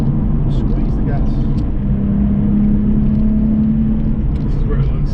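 Mr Rusty's car drives along a road, its engine giving a steady loud rumble with a rising drone as the throttle is squeezed, continuous and close, in a rolling drive.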